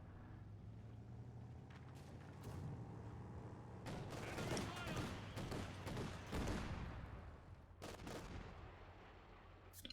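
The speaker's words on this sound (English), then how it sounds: "that mortar shell almost revealed the sniper there" Mortar shells and gunfire in a World War II–era real-time strategy match, a rumbling barrage of broadband blasts and crackling shots that swells mid-way, with several sharp impacts over a steady low battlefield drone.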